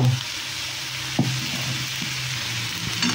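Sabudana frying in a small kadhai, a steady close hiss and sizzle throughout with a few soft scrapes of stirring; no talking.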